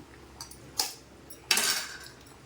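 Eggs are cracked one by one for an egg curry, making two sharp, close taps of shell against a pan or bowl rim with light clinks between, with no talking.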